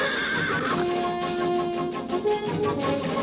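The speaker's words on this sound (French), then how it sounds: "Attention, les chevaux s'enfuient." Cartoon horses whinny loudly in a long, wavering neigh, followed by further neighing and a busy background of movement suggesting they bolt away.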